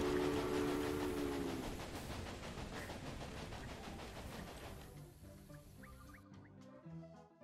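A train rolling along in the railway management game Railway Empire, a steady loud rumble with rhythmic clatter that thins toward the end as a faint whistle-like tone appears, no talking.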